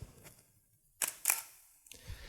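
Two sharp digital camera shutter clicks photographing a white sheet of paper, close together, crisp and near in a quiet room, followed by a softer mechanical click.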